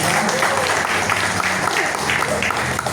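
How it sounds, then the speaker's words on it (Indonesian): Steady applause from an audience at a pesantren charity donation event in Sayung, Demak, a continuous crowd of hands clapping with a faint voice underneath. "Tepuk tangan dong."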